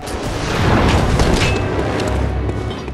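A boss in the Bloodborne video game fires a shot, heard as a loud, heavy boom with a rolling low rumble that lingers for a couple of seconds.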